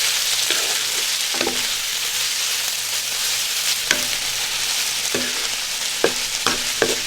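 Chow mein noodles and seared cabbage sizzle steadily in a hot pan while being gently tossed, a continuous frying hiss broken by a few clinking scrapes of the utensil.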